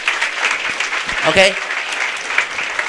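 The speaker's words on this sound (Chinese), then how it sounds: "给自己一个掌声" Audience applause at a seminar, dense steady clapping from a crowd filling the room throughout, with a voice briefly speaking over it.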